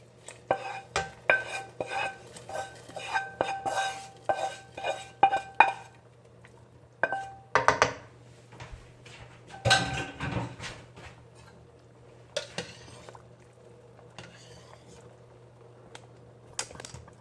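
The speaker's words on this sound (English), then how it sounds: "add in our sauté lemongrass and garlic" Sautéed lemongrass and garlic are stirred into a pot of Vietnamese bun bo hue broth: quiet, intermittent metallic clinks and scrapes of a utensil against the pot come in short bursts separated by pauses.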